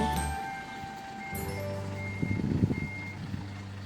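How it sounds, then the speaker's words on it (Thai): A truck reverses at a house site, its backup alarm sounding in steady tones over a low engine rumble, moderately near and alone. "ตอนนี้กลับรถใหม่นะคะ เพราะว่าหันด้านผิดค่ะ"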